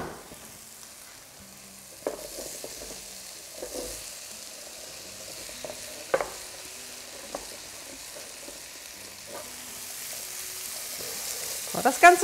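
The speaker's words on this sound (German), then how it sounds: "Wenn die Zwiebeln etwas Farbe angenommen habt, dann packt ihr das Gemüse dabei." Vegetables added to browned onions in a one-pot dish give a soft, low sizzle and occasional stirring clatter, quiet and close, with scattered small knocks and no speech.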